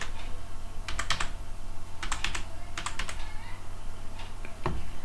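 Quick bursts of keystrokes on a computer keyboard as a password is typed, clicking in three or four short clusters over steady background hum, fairly close.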